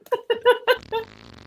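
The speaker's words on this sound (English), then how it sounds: "Fart noises." Rapid, close fart noises in several sputtering bursts, followed by a short buzzing tail, in a comedic riff setting.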